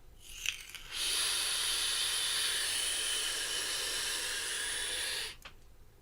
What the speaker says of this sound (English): Now the tank is quite loud when you close the airflow off, but that's also because I'm pulling on it really hard.